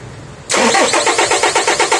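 A 2023 Toyota HiAce van engine cranks and catches after a half-second of quiet, then runs with a loud, rapid pulsing rhythm close to the microphone.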